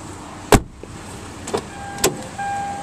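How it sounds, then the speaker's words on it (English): Power windows whir in a 2009 Hyundai Santa Fe, with a few sharp clicks and thumps from the switches and glass, then a steady motor hum near the end, close and fairly quiet. "This vehicle has power windows"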